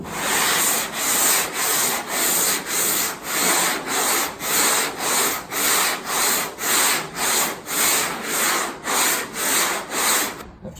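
Large areas of filler are sanded by hand in long rhythmic strokes, roughly a dozen even back-and-forth rasps, close and fairly loud, with no talking.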